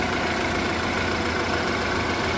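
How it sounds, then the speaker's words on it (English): BMW car engine idling in a steady, even hum with a faint knocking texture, close and continuous with no talk over it. "Engine running, nice and clean."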